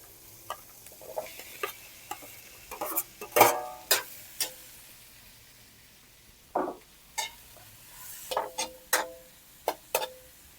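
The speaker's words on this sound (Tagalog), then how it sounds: "Isunod natin pag gisa ang ating kalabasa." Squash sautéing in a pan while being stirred, with scattered scraping and clinking strokes of a utensil over a faint sizzle, the stirs coming in irregular bursts with quiet gaps between them.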